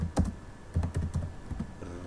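Typing text on a computer keyboard, a short run of quick, close, crisp key clicks in an uneven rhythm with no voices.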